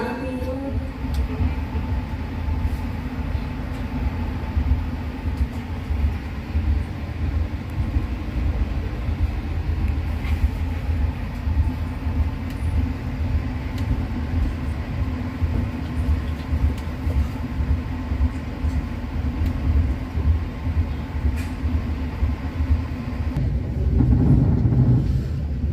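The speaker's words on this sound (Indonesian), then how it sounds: "Lodaya segera berangkat" The KA Lodaya passenger train departs from a station in Indonesia, a steady loud rumble of wheels and engine with a low hum, continuous throughout and swelling slightly near the end.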